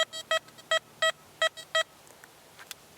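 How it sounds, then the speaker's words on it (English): High tone from an XP Deus metal detector, a rapid series of bright electronic beeps, close and clear, then fading out into quiet background with a couple of faint blips. "High tone."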